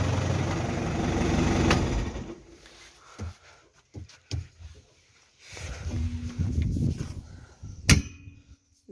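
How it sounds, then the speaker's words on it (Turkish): A New Holland TD100D tractor's diesel engine, cold-started at 0°C, chugs loudly at first, then drops away to quieter sputters and uneven bursts, with a few sharp clanks along the way. "Traktör çalışıyor. Tek başta aldı."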